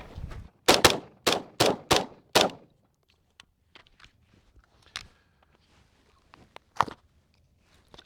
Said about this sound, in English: we're out here at the range today having fun, shooting a bunch of guns